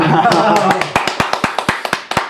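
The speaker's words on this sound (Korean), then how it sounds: "박수 한번" A small group giving a brief round of clapping during a three-person studio discussion, a dozen or so sharp, distinct claps following a moment of talk.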